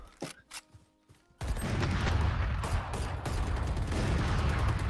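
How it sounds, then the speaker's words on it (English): Gunfire in a competitive shooter video game: a few sparse shots and mechanical clicks, then a sustained, loud burst of rapid overlapping shots that continues to the end. "Gunshot."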